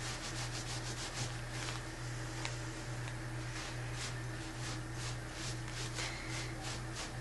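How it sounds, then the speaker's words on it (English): Steady, even scrubbing of a stained carpet during cleaning, a continuous rubbing rasp with rhythmic brush strokes over a low steady hum, close and moderately loud throughout. "And in time with scrubbing, you're going to get all of that right out of there."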